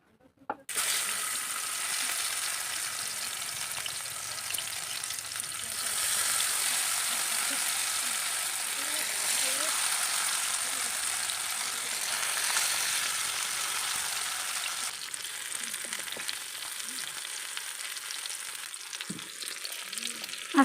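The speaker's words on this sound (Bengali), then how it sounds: "এগুলোকে উল্টে পাল্টে একটু ভেজে নেব" Sliced cabbage fries in hot oil in a kadai, giving a loud, steady sizzle that runs on for many seconds, with occasional scrapes and soft knocks as the pieces are turned over.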